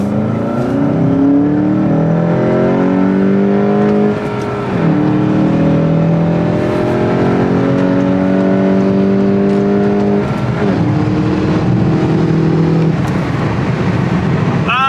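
A tuned car accelerating hard up a highway on-ramp, its engine note climbing steadily through the gears with short dips at each shift, loud and close throughout.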